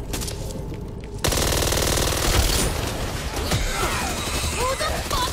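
Heavy automatic gunfire in the zombie shooter Back 4 Blood, starting abruptly and continuing as dense rattling bursts under in-game voices and chaotic noise.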